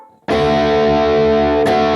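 A guitar through a BOSS GT hall reverb with a short tail on a Plexi/Brit stack amp model, heard as a loud, distorted sustained chord that starts abruptly, with a second strum near the end.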